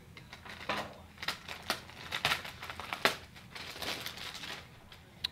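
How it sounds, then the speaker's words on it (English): Plastic packaging being cut away from a Snow Joe LED paint-safe snow broom, heard as close, irregular crinkling and crunching bursts scattered through the stretch with no talking. "We'll carefully cut off the plastic."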